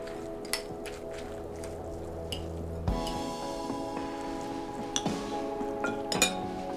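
Cooked noodles tossed with chili oil in a bowl, with clinking utensils against the dish, soft wet squishes and scattered taps close by, no talking.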